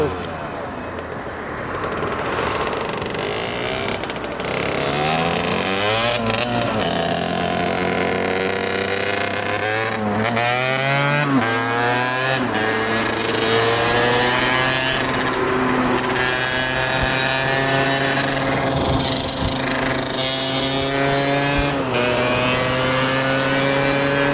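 A T108 PRO 50cc motorbike engine revs hard and repeatedly, its high, buzzing pitch sweeping up and down before holding a loud sustained wail, with voices occasionally heard.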